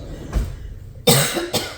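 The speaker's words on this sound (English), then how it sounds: "Sorry about this coughing." A faint cough early on, then two sharp, loud coughs close to the microphone, the last one after a short pause.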